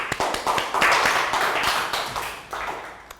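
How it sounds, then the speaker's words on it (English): A brief burst of clapping for a correct answer in a Year 3 maths lesson, dense irregular claps close by, loud at first and thinning toward the end. "High five. Round of applause."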